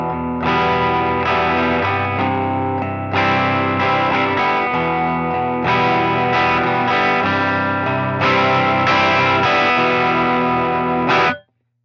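Heavily distorted electric guitar, an LTD EC-401VF through a Dream 180 bridge humbucker, playing chords and riffs, thick and saturated, ringing out in phrases before cutting off abruptly at the end.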